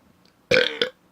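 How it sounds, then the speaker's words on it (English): A deliberate burp made by swallowing air, one loud close croak with a second short pulse right after, alone with no talk. "I do this thing where I can inhale air and turn it into a burp"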